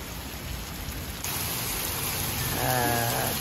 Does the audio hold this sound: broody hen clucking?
no